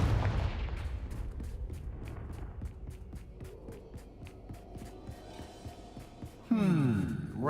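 Confringo fire spells in Hogwarts Legacy thump out in a rapid rhythmic series of blasts over a low hum, followed by a louder swelling burst near the end.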